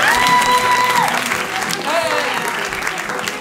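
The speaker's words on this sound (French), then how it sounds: "Eh bien, on l'applaudit." Full, sustained applause from a festival crowd at an improv theatre show in Paris, loud and even, with brief whistles and cheers riding over the clapping.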